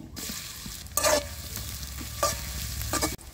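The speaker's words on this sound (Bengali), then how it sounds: "কড়াই গরম হয়ে গেছে, এখন দিয়ে দিচ্ছি সরিষার তেল, শুকনো মরিচ, পেঁয়াজ কুচি" Onion, dried chili and spices fry in mustard oil in a hot wok over a clay stove. A steady sizzle runs throughout, with a few louder crackling bursts and stirring scrapes. No one speaks.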